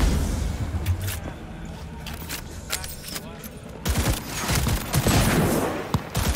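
Gunfire in Cyberpunk 2077 as automatic fire blasts at an aerial target: dense bursts of shots run through the whole stretch, growing heavier and louder in the second half, with game effects mixed in.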